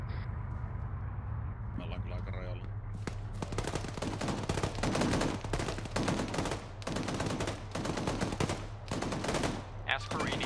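Sustained machine gun fire in Arma 3 from a vehicle gunner engaging a hilltop fortification: long rhythmic bursts of rapid shots over a steady engine drone, with radio talk underneath.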